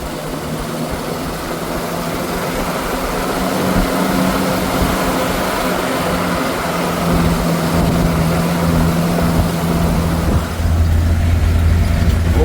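A 1960 car driving on a smooth road, its engine droning steadily and loudly from inside the cabin with constant rattling and shaking, the tone shifting near the end.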